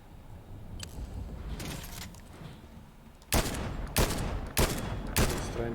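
Gunfire in Fortnite's no-build mode, aimed at a moving opponent: low rumbling ambience first, then four loud, sharp shots spaced roughly half a second apart.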